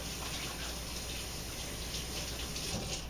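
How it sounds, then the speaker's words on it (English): Water runs steadily from a tap while hands are rinsed beneath it, a constant close splashing hiss with no breaks. "now I want to rinse my hands very quickly here"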